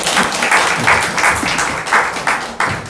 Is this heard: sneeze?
no